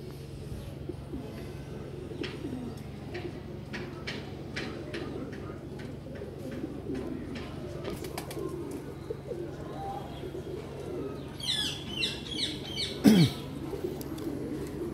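Phulsira Madrasi pigeons coo softly in a low, steady hum under quiet ticking and clicks, with a few brief scratchy flutters and a sharp chirp near the end.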